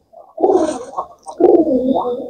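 Two soft, throaty pigeon coos close by, each a low rolling burble with a slight rise and fall, separated by a short pause.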